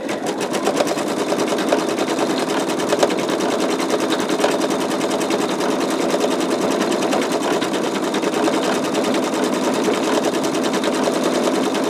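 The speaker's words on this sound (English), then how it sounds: "when this particular leaf finishes stitching out" An embroidery machine stitches out a leaf on a skull design, its rapid needle clatter running steady and loud for the whole stretch without voices.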